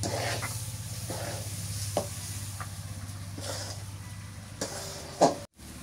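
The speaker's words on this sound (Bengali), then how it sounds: "আদা রসুন জিরা বাটাটা এখন দিলাম কে চাউলটার সাথে ভালো করে ভাজা নিই" Rice fries with a ginger, garlic and cumin paste in a steady close sizzle, broken by regular scraping stir strokes and a sharper clank near the end.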